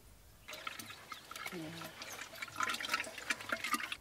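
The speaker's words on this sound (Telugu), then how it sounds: "మట్టి కుండలో ఆవు పేడ మూత్రం నీళ్లు వేసి బాగా కలియపెట్టాలి" Wet, thick sloshing and churning as cow dung, cow urine and water are stirred in a clay pot, steady and close, with voices heard faintly in the background.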